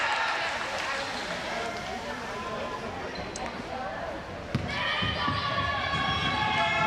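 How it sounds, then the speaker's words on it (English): Lakewood fans make continuous crowd noise and shouting in a girls' high school basketball gym during a free throw, a steady roar with a sharp thump partway through and a commentator talking over it. "Lakewood fans trying to distract her"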